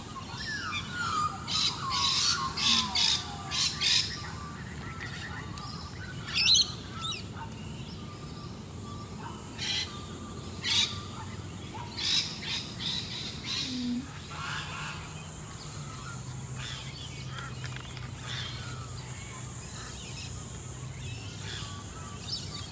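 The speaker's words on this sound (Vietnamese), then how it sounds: "Ngỗng kêu chim hót." Geese honk in scattered, fairly loud bursts over a quieter chorus of songbirds at a Gold Coast property in the early morning, with a faint low background hum throughout.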